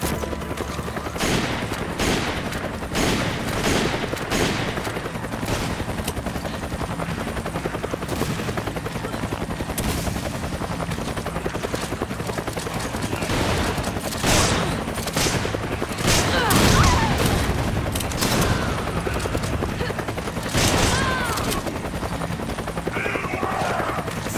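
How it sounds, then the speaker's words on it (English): Sustained bursts of rapid gunfire and booms from the game Resident Evil 5, layered over a steady helicopter-like rotor drone, loud and continuous throughout. "hear gunfire"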